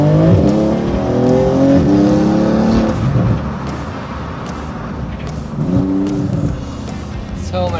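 A Porsche sports car engine, a GT3 or GT2 RS, revs and accelerates hard up close, with rising engine tones, a drop in pitch partway through, then another climbing surge.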